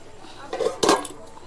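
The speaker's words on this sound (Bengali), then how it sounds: "এবার ঢাকনাটি খুলে নেব" A metal lid lifted off a pot of cooking olives, two brief close clinks of metal on metal in an otherwise quiet kitchen.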